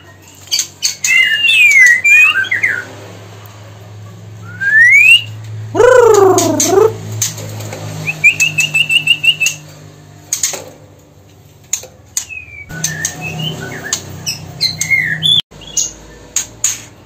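A male breeding songbird in a cage calls loudly and close by in repeated bursts, with sharp squawks, quick chirps and rising whistled notes broken by short silences.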